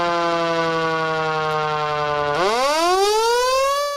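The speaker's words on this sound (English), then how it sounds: "You know it, you love it, the Q siren." A Federal Signal Q mechanical emergency siren sounds loud and alone, holding a steady harmonic wail before winding up and climbing sharply in pitch over the final seconds.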